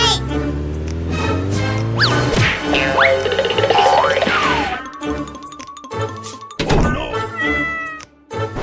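A cat meows amid a loud, busy comedy soundtrack of music and sound effects, with bouncy thumps and jingles crowding around it.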